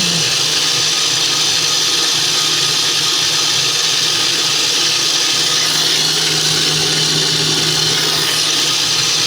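A GE Profile smart stand mixer runs on its automatic setting while whipping egg whites, giving a steady, loud mechanical whir with a constant motor hum that does not change for the whole stretch.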